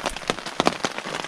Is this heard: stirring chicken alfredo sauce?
no